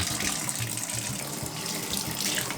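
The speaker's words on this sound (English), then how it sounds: "Every day when I shower, I turn the water to as cold as it will go." Cold water from a shower running steadily at full force, a continuous broad hiss and splash that stays even and fairly loud throughout, with no voices.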